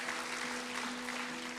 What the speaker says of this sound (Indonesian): kasih tepuk tangan bagi Tuhan kita